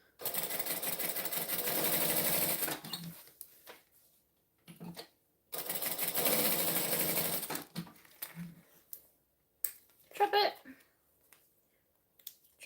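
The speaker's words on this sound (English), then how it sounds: "top stitch it down." Sewing machine running in two long, loud bursts of top stitching, then shorter runs and clicks with some talk in the room, while a Modified Floozy bag is sewn.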